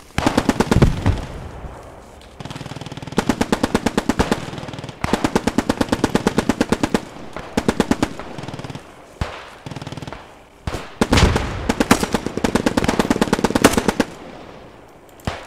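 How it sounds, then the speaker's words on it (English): Machine gun fire rattles in the World War II video game Post Scriptum, loud rapid bursts of automatic shots in repeated volleys with brief gaps and a few heavier single blasts. "I got machine gunner near rally."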